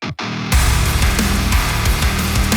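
Impact effects slam into a dense modern metalcore mix. After a brief dip, a massive low boom lands and the full track continues loud and distorted, with no voice.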